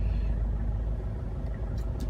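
Road traffic in Mandaue City, Cebu, heard from inside a car: a steady low engine and road rumble with idling vehicles around, continuous and fairly loud, no talk.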